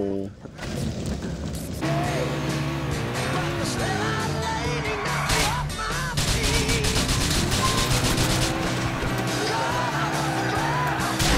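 Grenade blast and gunfire in GTA IV: a loud burst near the start, then dense, continuous booming and firing, with people shouting and talking over the chaos throughout.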